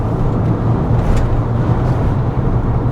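Engine of a 2001 VW New Beetle 1.8 Turbo running, a loud, steady low droning rumble with little change in pitch across the short stretch, no voices.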